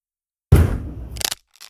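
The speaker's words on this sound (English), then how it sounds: "The wood is cracking." A wooden door cracks under heavy battering: one loud, close splintering crash after silence, then a short run of sharp cracking snaps that fade out.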